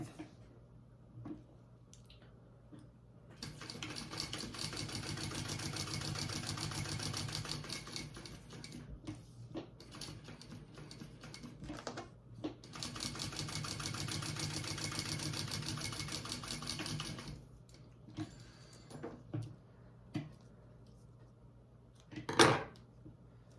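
A sewing machine topstitches fabric in two long steady runs of rapid mechanical whirring, separated by brief pauses and small clicks of handling, close and fairly loud.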